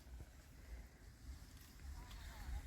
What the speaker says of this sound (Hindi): हवा चल रही है, बहुत ही शानदार।